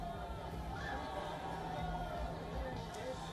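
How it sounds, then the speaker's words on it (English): A large crowd of the Indian diaspora in Abu Dhabi, awaiting India's Prime Minister, keeps up a dense, continuous roar of chatter, with a voice talking over it. "the crowd has completely become ecstatic as the Prime Minister and the ruler of UAE arrive here"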